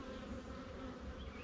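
Honey bees in an open hive make a faint, continuous buzzing drone, steady throughout with no voices.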